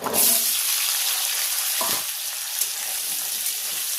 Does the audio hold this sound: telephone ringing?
no